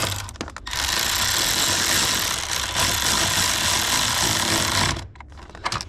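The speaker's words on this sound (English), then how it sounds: "use the ratchet" A ratchet wrench tightens bolts on a Honda S2000, its rapid clicking merging into a dense, steady whir for about four seconds. Brief scattered clicks come just before and after.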